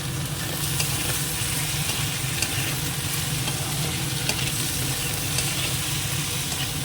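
Prawns fry in hot oil in a pan, giving a continuous, close sizzle with occasional stirring scrapes and no talk over it.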